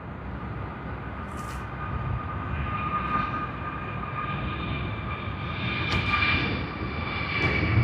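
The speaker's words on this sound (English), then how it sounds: "That's the first departure of the day that we get, JQ39 to Denpasar on the Airbus A321" An Airbus A321 jet departs Sydney Airport, its engines a steady, broad roar that slowly builds in strength, heard at some distance with a faint whine on top and no talking.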